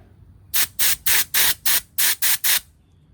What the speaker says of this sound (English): spray some compressed air through it